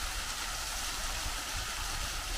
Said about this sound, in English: It's a free-falling type waterfall